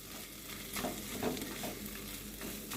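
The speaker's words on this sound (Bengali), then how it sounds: "আর একটু ভাজা ভাজা করে নেব।" Lentils and spices sizzle and fry in a pan for a vegetarian pointed gourd and moong dal dish, with soft scraping stirs over a continuous low crackle, close and fairly quiet.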